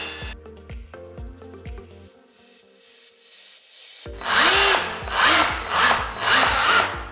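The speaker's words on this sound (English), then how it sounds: "that's started now to bite into the actual tile" A power drill bores through glazed bathroom tile. It starts with short repeated bursts, goes briefly quiet, then returns in louder pulsing grinding surges as the bit bites into the tile body.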